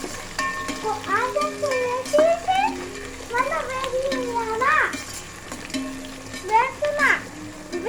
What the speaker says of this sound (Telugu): కొంచెం వేగనివ్వాలి